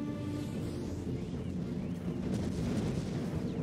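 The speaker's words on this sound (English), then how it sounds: "Let's pop a few guns here." Guns firing in the tower-defense game Defense Grid on the Borderlands Forge map: a steady, dense wash of low booming fire and thuds that runs without a break under the game's ambient rumble, with no voices.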